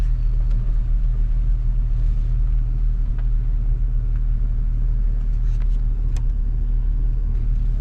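A truck engine rumbles loud and steady, low and continuous, while pulling a stuck vehicle free outdoors up north, with no speech over it.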